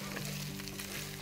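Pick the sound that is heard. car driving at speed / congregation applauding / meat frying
meat frying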